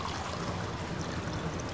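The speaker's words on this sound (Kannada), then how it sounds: "ಸೊ ನೀರು ತೊಗೊಂಬೋಣ ಮೊದಲನೇದಾಗಿ." Water is poured from a vessel at a small idli hotel, a steady gurgling stream that runs continuously at moderate loudness with no voices.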